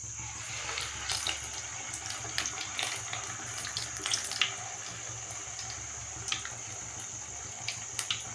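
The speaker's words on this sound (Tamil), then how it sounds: "இந்த மாதிரி எண்ணெய் நல்லா காஞ்சி வந்த பிறகு ஒரு வடையாக தட்டி போட்டுக்கலாம்." Black gram vadas, temple-style, fry in hot oil with a steady, soft sizzle and a constant hiss, broken by small bubbling pops, continuous and close throughout.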